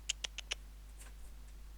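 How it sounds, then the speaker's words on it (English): A cat jumping into a cardboard Amazon box, four quick light scratchy taps in a row followed by fainter rustling, close and quiet, with no talk. "It's the sound of her jumping in a fucking Amazon box."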